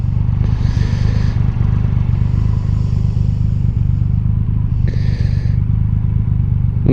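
A 2020 Triumph Rocket 3 R in Jet Black rumbles along on the road, a loud, steady low engine drone with a couple of brief brighter swells, no voices over it.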